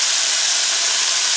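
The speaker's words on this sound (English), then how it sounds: "the garlic bits are actually deep frying in the oil" Garlic bits deep frying in hot oil in a pan for chicken with ginger and green onion, a steady, loud, dense sizzling hiss that runs without a break, no voices over it.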